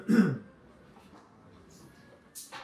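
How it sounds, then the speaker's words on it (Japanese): A person coughs or clears their throat once, sharply, in the background during a meal of a thick 200 g pork steak set at a Matsuya restaurant, followed by quiet room noise and a faint clink. "誰か咳込んでます。"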